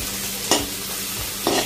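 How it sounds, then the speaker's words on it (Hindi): Green chillies sautéing in a pan, a close steady sizzle broken by two short scraping stirs of a spoon. "इसको भी 2 मिनट के लिए भून लेंगे"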